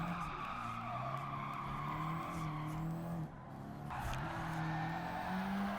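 A Nissan Silvia drifting in Gran Turismo 7, a steady engine drone layered with long sustained tire squeal, wavering in pitch as the slide shifts, loud and continuous throughout.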